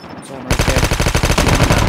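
Rapid automatic fire from an AK-117 rifle in the Call of Duty video game. A sustained, loud burst of evenly spaced shots begins abruptly after a brief quiet moment and continues without pause.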